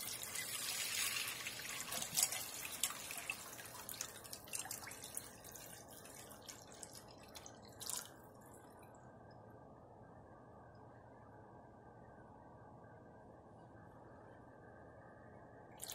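Tap water running and trickling into a container while salt water is mixed for a Tesla coil build, a steady splashy flow that is louder at first, then settles into a quieter, even trickle with no talking.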